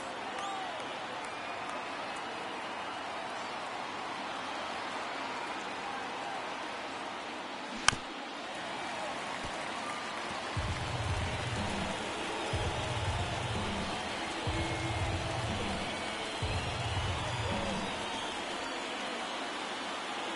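Broad stadium crowd murmur in an MLB The Show 23 video game baseball broadcast, a Diamondbacks versus Cubs ninth inning, sustained throughout with swelling bursts in the latter half and a single sharp click.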